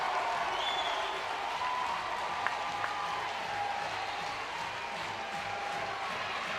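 A college softball crowd applauds and cheers after a home run in a Virginia Tech versus Georgia game, a sustained wash of clapping and crowd noise heard from a distance, with an announcer's voice faintly underneath.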